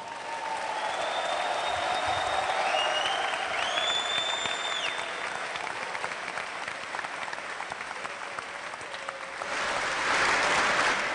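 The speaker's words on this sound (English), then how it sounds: "Let's give them a big round of applause." A crowd at a boxing event claps for the fighters about to enter, a sustained wash of applause with scattered whistles that swells again near the end.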